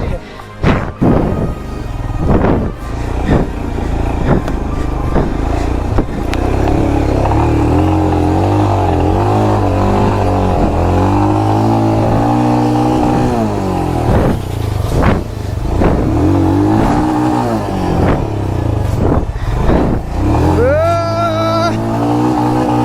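Motorcycle engines revving loudly during a group ride, repeated throttle bursts and rising, falling roars close by, with thumps and occasional shouting voices mixed in.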